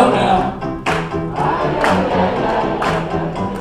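Sustained applause and cheering from a comedy club audience at the close of a clean comedy show, loud and continuous with crowd shouts and whoops rising through it.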